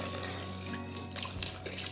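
Water from a clay pot poured into a vessel to wash freshly churned butter for homemade ghee, a soft steady trickle and splash, faint and close, with no speech.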